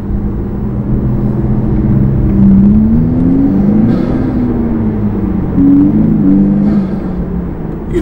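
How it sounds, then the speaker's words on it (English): A Lexus with a new intake cruises under a bridge, its engine a loud, close, steady rumble overlaid by a rising and falling turbo whistle that swells in two waves. "definitely hear the turbo whistle there."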